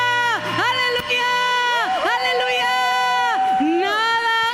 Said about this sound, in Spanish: ¿Cuánto le dan esa voz de júbilo y ese aplauso?